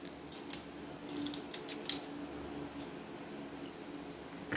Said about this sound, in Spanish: Entonces te decía que de 17 centímetros vamos a ir cortando.